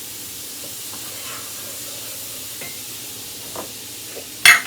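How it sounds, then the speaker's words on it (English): Food fries gently in butter in a pan, a soft low sizzle with occasional faint clicks of a utensil, ending in one louder, sharp clatter close by. "I'm gonna get that into the butter. Let that fry up."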